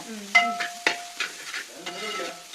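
Beef curry being stirred with a spatula in a pan, giving a few sharp scraping strokes over a soft low simmer and faint kitchen noise, with no talking.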